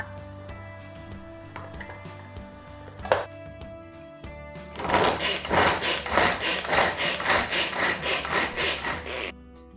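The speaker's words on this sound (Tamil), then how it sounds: "இப்போ கேரட்டை, ஒரு முழு கேரட்டை நான் கட் பண்ண போகிறேன்." A Prestige pull chopper cuts a whole carrot. A few sharp clicks come first, then a loud, steady run of rapid ratcheting whirs as the cord is pulled repeatedly, close and with no voices.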